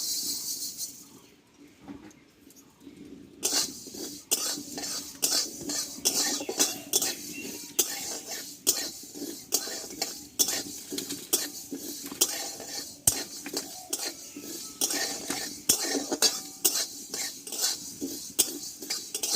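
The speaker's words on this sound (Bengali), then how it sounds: "দেখো এবার এখানে সরষেটা ভেজে নেবো" Mustard seeds dry-roasting in a pan for a raw mango oil pickle. A spoon scrapes and clinks steadily against the metal in quick repeated strokes, with faint sizzling, after a brief quiet opening.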